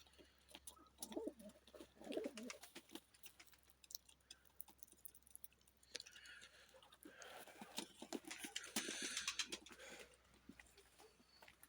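Soft pigeon coos and rustling in a noisy enclosure, with scattered clicks and fluttering throughout, fairly faint and continuous.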